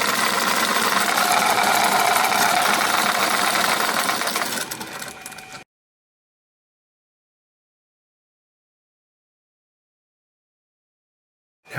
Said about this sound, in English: Now here are 2 sets of staggered three-phase coils with an 80 millimeter magnetic flywheel in the center, 5 millimeters thick.